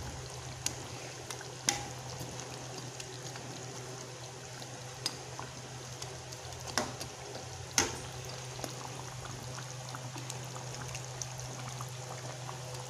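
Bubbling from an uncovered pot of big fish head curry reducing its water runs quietly and steadily, broken now and then by a few small clicks and pops.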